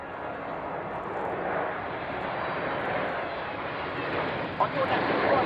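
Breitling Jet Team aircraft fly in formation at an air show at Fairford, a sustained broadband jet roar at fairly steady loudness with a slight swell near the end, no talk.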